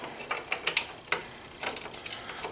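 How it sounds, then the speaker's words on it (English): An Allen key tightens bolts on AltRider lower crash bars being fitted to a Honda Africa Twin CRF1000L, giving a close series of quick dry metallic ratcheting clicks with faint handling noise. "Then we'll take the 2 Allen bolts supplied and bolt the top."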